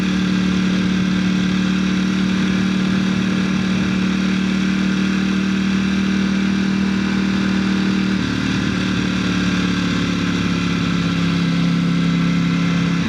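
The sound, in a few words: 2018 narrow body V4S sport motorcycle engine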